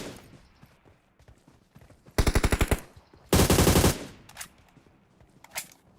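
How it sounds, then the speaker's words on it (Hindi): Two loud bursts of rapid automatic gunfire in PUBG Mobile, each lasting about half a second, separated by quieter pauses, followed by a few fainter single shots. "बॉट ने भी गोली मार।"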